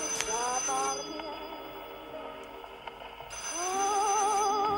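Telephone ringing in a short burst, then a pause and a second burst, with warbling tones sounding clear and fairly close, alone with no talk over it.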